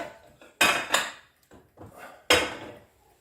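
A glass salad bowl is handled and set down, giving a few sharp clinks and knocks spaced irregularly, close and clear against a quiet background.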